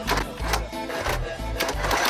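Race lawn mower engine running rough, a loud nearby mechanical clatter with uneven, surging pulses repeating about every half second.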